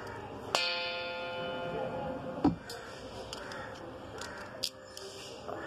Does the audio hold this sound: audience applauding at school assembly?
no